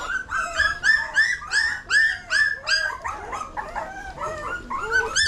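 A litter of puppies whimpers and yips in rapid high-pitched bursts, several voices overlapping close by in a steady chorus.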